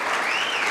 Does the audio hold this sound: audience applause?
yes